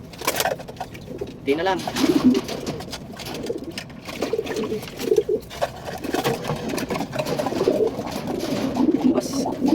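Molting pigeons coo repeatedly in low, throaty phrases, close by and steady throughout, while a person talks intermittently over them.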